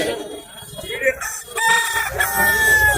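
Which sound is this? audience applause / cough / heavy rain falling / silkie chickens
silkie chickens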